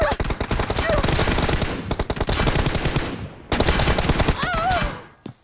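Heavy gunfire in a PUBG Mobile match, long rapid bursts of shots close and loud, broken by brief gaps, with a few other game sounds mixed in toward the end.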